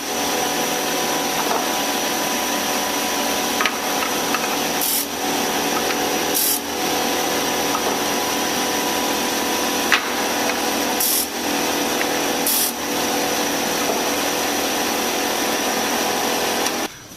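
A power sander works wooden checkerboard pieces in a steady, loud, continuous whir with a few brief dips as the sander is lifted and reset.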